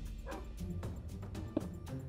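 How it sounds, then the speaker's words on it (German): Dog barking inside a video game set around a secret tunnel beneath a house, a few short faint yelps spread over two seconds against a steady low game background, with no voices over it. "Ich habe hier gerade ein Bellen gehört."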